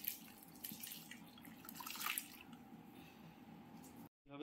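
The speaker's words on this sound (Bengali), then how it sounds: "এইভাবে জল ঝরিয়ে নিলাম।" Water drains from curdled milk through a cotton cloth strainer while making paneer, a soft steady trickle and patter heard close and fairly quiet, cutting off abruptly near the end.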